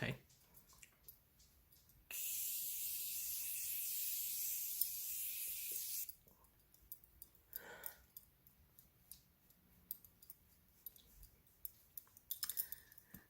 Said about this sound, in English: Okay, our face is sprayed.